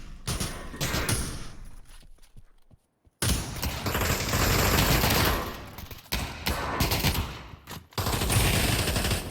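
Rapid bursts of automatic gunfire crackle in Pavlov VR during a competitive match, with dense, loud volleys broken by a brief silent gap, then resuming in heavy sustained fire.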